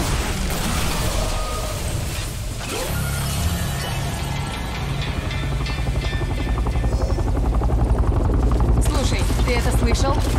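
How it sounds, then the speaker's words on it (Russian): A skull helicopter draws near in the shooter Bulletstorm, a dense rotor chop and mechanical roar mixed with bursts of gunfire, loud and continuous, growing slightly stronger toward the end. "это слышал? Вертушка черепов."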